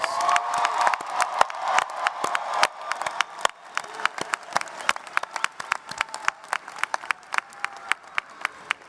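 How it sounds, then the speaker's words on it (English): Graduation ceremony crowd at Camden College of Arts & Sciences applauding and cheering the graduates: full, dense clapping with faint whoops at first, then thinning into sparser individual claps that keep sounding clearly to the end. "let's give our graduates one more big round of applause"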